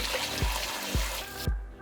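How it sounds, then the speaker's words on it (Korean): Running tap water splashing as fruit is rinsed under the stream, close and continuous, with a few dull knocks under the flow before it cuts off. "30초간 흐르는 물로 남아있는 농약이 있을지 모르니 제거를 해줍니다"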